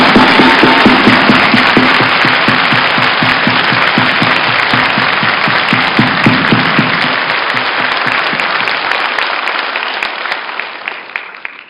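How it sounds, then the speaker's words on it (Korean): A lecture audience at a university special talk applauds loudly, dense sustained clapping from many hands that gradually thins out near the end. "크게 박수를 한번 쳐주시기 바랍니다."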